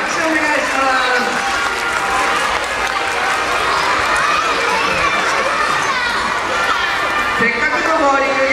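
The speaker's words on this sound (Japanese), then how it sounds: "今に大きな拍手をお願いします。" An audience applauds at an aquarium dolphin show after a dolphin bowling trick, a dense sustained clapping from a crowd with children's voices and shouts mixed in.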